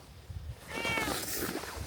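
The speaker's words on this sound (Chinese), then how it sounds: "这儿有个猫咪向我走过来" A cat at a quiet temple gives one clear, drawn-out meow up close, soft and short, with a quiet murmur of breath before it.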